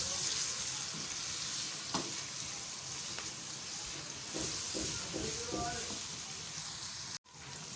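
Garlic and ginger frying with onions in a pan, a steady close sizzle and hiss with occasional stirring clinks, and someone briefly talks over it.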